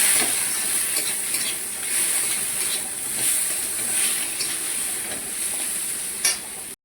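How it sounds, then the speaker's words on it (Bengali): Fried katla fish is stirred in a hot pan with turmeric and salt, giving a steady oily sizzle broken by repeated scraping strokes of the utensil, close and without talk. "এবার আমি উপর দিয়ে দিয়ে দিচ্ছি হলুদ করে এবার দিয়ে দিচ্ছি নুন এবার ভালো করে এটাকে মিশিয়ে নেব"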